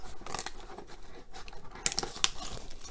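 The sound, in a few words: cutting plastic wrap off a card hobby box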